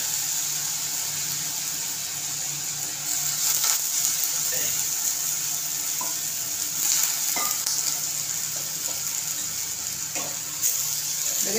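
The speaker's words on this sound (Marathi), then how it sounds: "हे तांदूळ आहेत ना, हे तेलामध्ये चांगले परतून घ्यायचे" Rice sautéed in hot oil with peanuts for masala rice, a steady close sizzle with intermittent scraping stirs from a spoon against the pan.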